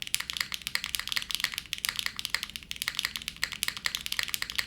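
Typing on an Initial D Toyota AE86 themed mechanical keyboard: a rapid, steady stream of crisp key clicks at close range, fairly quiet, with no talking.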